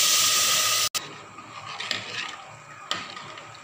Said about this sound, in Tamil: தண்ணி வந்து கொதிக்க ஆரம்பிச்சிருச்சு